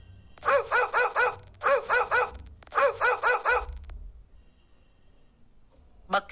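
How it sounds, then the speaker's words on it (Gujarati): A dog barks in three quick bursts of several sharp barks each, fairly close, followed by quiet and a brief final yap. "કૂતરું ભસે છે."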